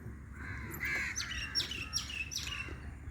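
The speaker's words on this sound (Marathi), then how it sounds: "हे बघ इथे कावळा उडला." A crow in the Kerala mangroves gives several harsh caws and chirpy calls spaced about half a second apart. The calls are fairly faint over a low, steady background hum.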